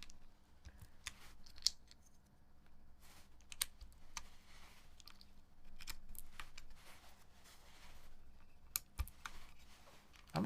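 Keycaps are pressed onto a mechanical keyboard fitted with Hyperglide brown switches, giving faint, scattered, uneven plastic clicks and snaps close by with long quiet gaps and no talking.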